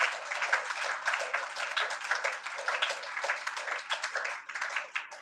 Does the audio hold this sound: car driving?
no